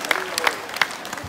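Brief audience applause at a Gaura Purnima religious gathering, a short burst of scattered hand claps from a crowd close by.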